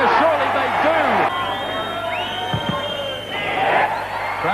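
Spectators at a 1991 Rugby World Cup match cheer and roar after a try is scored. The crowd noise swells and recedes beneath continuous commentary.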